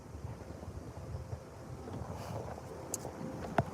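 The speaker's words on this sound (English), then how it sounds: "Oh, it's windy." Wind buffets a microphone outdoors, producing a steady low rumbling roar with a few faint knocks near the end.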